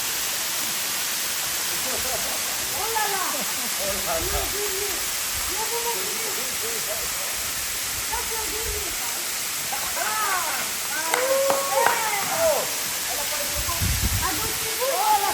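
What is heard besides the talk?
Afareaitu waterfall rushing water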